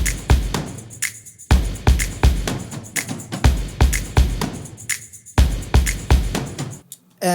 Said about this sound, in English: And together the drum sounds like this in the pre-chorus.